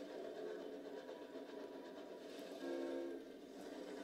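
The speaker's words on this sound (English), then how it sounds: "If I press down on the left trigger, I get a train horn." A steam locomotive's horn in the Sunless Skies video game, sounding as a faint, sustained tonal blast over a low rumbling engine drone, with a second, brighter swell of the horn near the end.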